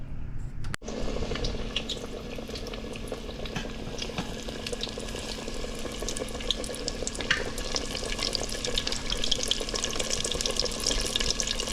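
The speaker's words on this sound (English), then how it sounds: "I'm going to get my oil up to 390 and start the frying process." Continuous crackling and bubbling of chicken nuggets deep frying in oil at about 390 degrees, a dense steady sizzle after a brief click at the start, with no voices.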